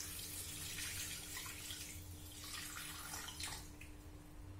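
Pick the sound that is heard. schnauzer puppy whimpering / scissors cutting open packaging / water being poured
water being poured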